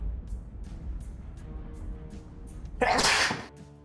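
One sharp, fairly close sneeze bursts out near the end after a few seconds of quiet indoor room noise, with no talking around it.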